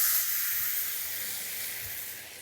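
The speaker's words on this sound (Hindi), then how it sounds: "एक अच्छा स्टर और इसमें जाएंगे ये चने" Chickpeas go into a pan of spices over a low flame, prepared for Navratri chana: a steady, fairly loud hissing sizzle that fades slightly as it goes on.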